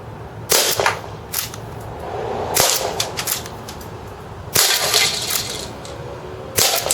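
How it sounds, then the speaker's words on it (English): A Marushin Raging Bull airsoft revolver fires 8mm BBs into a can, giving sharp cracking shots spaced a second or two apart, each with a short metallic ring, close and loud over a steady low background hum. "So 6 rounds of 8mm BB going right into the can."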